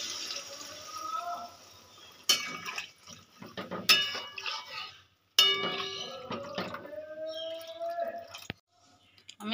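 Water poured into a pan of fish curry being cooked without oil, heard as intermittent splashing and trickling with clinks of the pan, moderately close, among other kitchen clatter.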